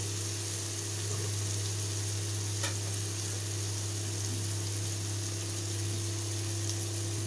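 Cauliflower fry with coriander leaves sizzles in a pan, a steady, fairly quiet hiss of frying with a continuous low hum underneath and one faint clink partway through.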